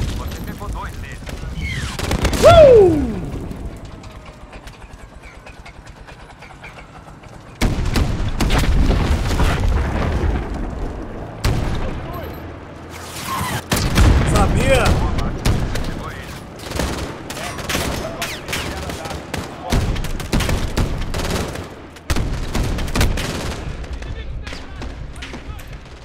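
Gunfire and explosions in the Call of Duty: Modern Warfare campaign on hardcore difficulty, with loud bursts of automatic fire, booms and chattering weapons in repeated waves, broken by quieter gaps and voices talking.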